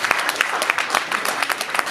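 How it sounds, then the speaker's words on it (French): A burst of applause from guests at a civil wedding, dense overlapping claps filling the whole short moment at a steady, lively level. "Est-ce qu'on peut applaudir pour David?"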